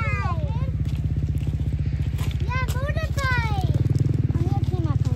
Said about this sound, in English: Oh, it's a motorbike.